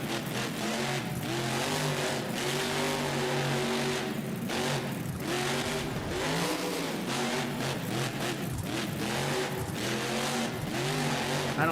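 Monster truck with a popped tire in the BeamNG driving game, engine droning steadily with shifting revs and tire squeal throughout, loud and continuous.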